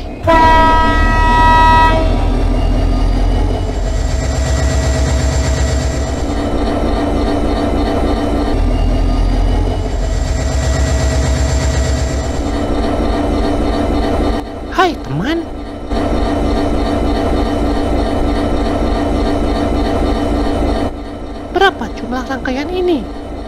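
A train coupled to a long string of wagons sets off. Several long, loud horn blasts sound over a continuous heavy rumble and mechanical drone, with a few brief sharp knocks near the end.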